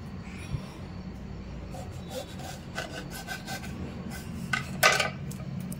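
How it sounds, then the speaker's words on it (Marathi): A knife rasps and scrapes through raw mango being chopped finely for chutney, with soft repeated rubbing strokes and a louder clatter near the end, quiet and without talk. "आता मी हे सगळं कापून घेते"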